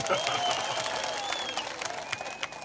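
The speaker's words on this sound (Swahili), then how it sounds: "Mjipigia makofi basi." A crowd at a political rally in Machakos breaks into applause, a dense wash of clapping with cheers and whistles mixed in, steady across the clip before thinning slightly toward the end.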